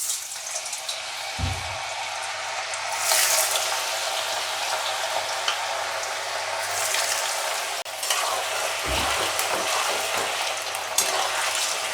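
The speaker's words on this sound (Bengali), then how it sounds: "এবার এই তেলে আঁচটা একটু বাড়িয়ে দিয়ে এই আলুগুলো ছেড়ে দেবো।" Potato pieces drop into hot oil in a pan and break into a loud, steady sizzle. A couple of low thumps are heard as more go in, and the hiss keeps up throughout.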